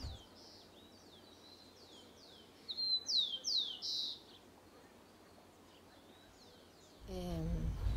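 Several short bird chirps and whistled calls ring out in a hillside forest, clustered in a brief louder burst midway over quiet background, followed by a low rumbling noise at the end.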